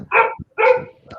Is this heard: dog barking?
yes